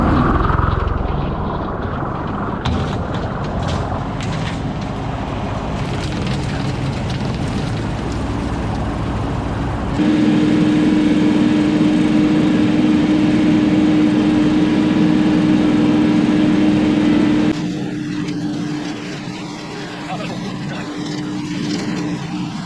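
A KIOTI NS6010 tractor bush hogging food plots, its engine and rotary mower running as a steady, loud drone close by, with a harsher shift in pitch midway and a slightly fainter stretch near the end.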